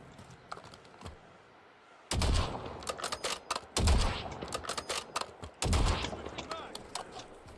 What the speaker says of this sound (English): Pretty bad shooting there.